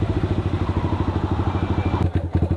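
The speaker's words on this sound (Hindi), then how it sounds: "ये देखो थोड़ा सा इसने थ्रॉटल तोड़ा फिर चली है" Yamaha R15M motorcycle fitted with an aftermarket exhaust, idling close by with a steady, lumpy pulsing rumble, then a quick throttle blip near the end.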